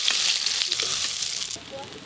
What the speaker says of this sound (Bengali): মাছগুলো তো ভাজা হয়ে গেল।